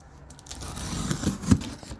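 Packing tape rips off a well-taped cardboard box in short, scratchy tearing bursts close by, peaking sharply near the end, with no talking.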